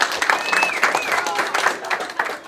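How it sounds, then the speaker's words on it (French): A group of children clap together in a burst of close, lively applause, with a few voices mixed in among the patter of hands. "Tout le monde applaudit."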